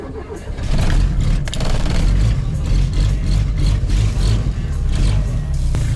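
A cold Zhiguli car engine starting on gas in snowy weather: the engine catches within the first second, then settles into a steady, loud, rough idle that continues throughout.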